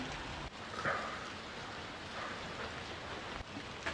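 Steady rain hisses continuously with a dense, even wash of patter, fairly close, no voices.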